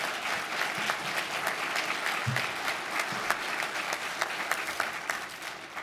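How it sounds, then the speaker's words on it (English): An audience at a steel casting awards event claps in a continuous round of applause, a steady, even patter of many hands heard from the room. "Please, just a quick round of applause"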